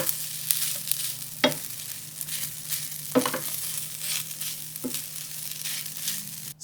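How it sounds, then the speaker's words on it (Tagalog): Rice stir-fried with garlic in a hot pan, a steady crackling sizzle with a low hum underneath and a few sharp scraping clatters from the utensil against the pan. "Magsangag na tayo ng kanin."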